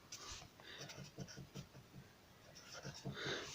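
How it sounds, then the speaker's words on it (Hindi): Marker or chalk writes on a board during a second-year statistics lecture, a soft, quick run of scratchy strokes that is faint and close, with no speech over it. "सबसे पहले मैं यहाँ पे स्टैटिस्टिक्स लिख दूँ।"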